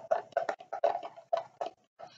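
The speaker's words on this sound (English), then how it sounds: "And just give it a stir." A spoon stirs salt and water in a neti pot, giving a quick run of light clinking taps, close and clear, about seven knocks in irregular rhythm.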